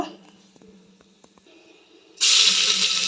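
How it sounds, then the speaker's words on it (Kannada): Whole garam masala drops into hot ghee and oil after a quiet stretch of faint clicks, then bursts into a sudden loud, steady sizzle that continues to the end. "ಈಗ ಹೋಲ್ ಗರಂ ಮಸಾಲ ಹಾಕೊಳ್ಳೋಣ. ಇದು ಸ್ವಲ್ಪ ಫ್ರೈ ಆಗಬೇಕು."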